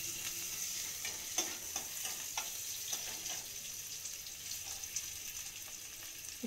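Young red neem leaves fry in a little oil in a wok, giving a faint, steady sizzle broken by soft clicks of stirring.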